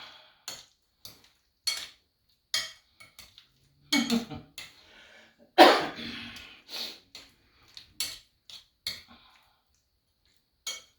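A utensil scrapes and clinks against a dish while franks and beans with barbecue seasoning are stirred, giving irregular short taps with a couple of longer scraping strokes, close and otherwise quiet.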